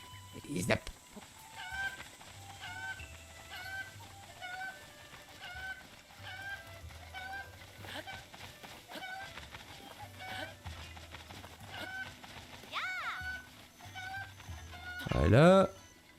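Chickens in The Legend of Zelda: Breath of the Wild cluck in repeated short bursts over about sixteen seconds, fairly faint against game background sound, with a sharper squawk near the end.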